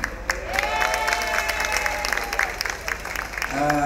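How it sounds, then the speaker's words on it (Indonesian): Audience applause at a panel event on local humanitarian actors, steady clapping filling the room, with voices murmuring over it and a brief tonal sound near the start. "Dilanjut tepuk tangannya buat rumah di sini."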